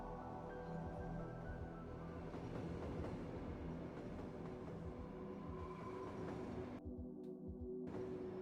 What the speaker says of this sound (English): These are container trains that I've downloaded off the Steam Workshop